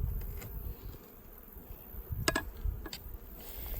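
Honey bees hum around beehives near a lake in dry late-September South Alabama weather, a steady close buzz with a few sharp clicks and knocks of hive handling.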